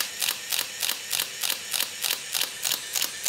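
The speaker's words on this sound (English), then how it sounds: "the wildest shutter sound. Just listen to this." A fully automatic film camera fires its shutter and winds on in a rapid, even series of about nine crisp mechanical clicks, close and clear with no talk.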